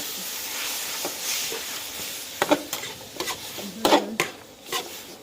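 Chicken pieces sizzle and hiss in a hot pan with chili, with a few sharp clanks and scrapes of a utensil stirring; no voices.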